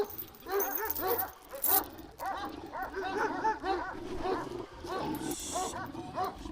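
Several Kangal dogs barking repeatedly nearby, overlapping and uneven in rhythm, with some whimpering and brief voices mixed in.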